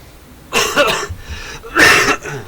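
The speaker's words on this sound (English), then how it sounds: "Excuse me for all the coughing and hacking." Two harsh, close coughing bursts, a hacking cough and then a second louder one after a short pause, with no talking.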